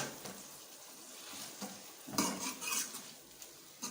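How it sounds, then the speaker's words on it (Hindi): A spoon stirs salt into chicken karahi in a metal pot, giving soft scraping and clinks over a faint sizzle, with a louder burst of stirring midway and no talking. "नमक आप हस्बे ज़रूरत डाल सकते हैं इसमें और इसको अच्छी तरीके से मिक्स करेंगे"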